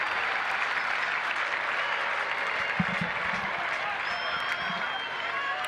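Rugby crowd at Argentina v England, with English fans cheering and applauding in a dense, steady roar throughout, a commentator talking over it.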